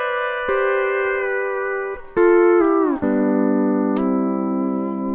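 A steel guitar played with four fingers plays a slow ending phrase: several sustained, sliding chords with smooth pitch bends, ringing clearly and close with no talking.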